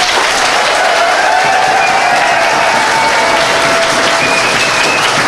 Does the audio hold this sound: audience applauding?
yes